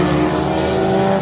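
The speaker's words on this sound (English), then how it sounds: "Just lovely, lovely V8 noises." Loud, close engine roar of Can-Am race cars passing on a racetrack, a dense droning V8 rumble sustained throughout.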